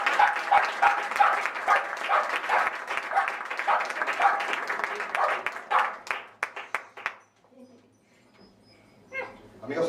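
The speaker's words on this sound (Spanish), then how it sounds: "os doy un pequeño aplauso" Applause from an audience at a 25th-anniversary gathering, dense clapping for about six seconds that breaks into scattered claps and fades, followed by near quiet, with a dog-like yelp and voices at the end.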